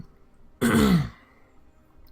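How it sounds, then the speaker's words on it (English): A single harsh throat clearing, close and fairly loud, lasting about half a second and then fading into quiet room tone. "I'm sorry I'm coughing so much"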